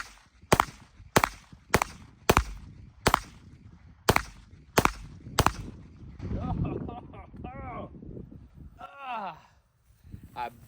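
Eight sharp gunshots at a rifle/pistol drill, evenly spaced and loud at close range, followed by someone talking.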